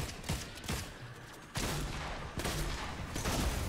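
Assault rifle fire in Fortnite, with rapid bursts of shots rattling in quick succession and a brief pause before another sustained volley, fairly loud and close.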